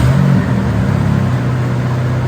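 A Honda Civic 1.5 turbo engine on a dyno, holding a loud, steady drone after a brief rise in revs, continuous and close with no talking.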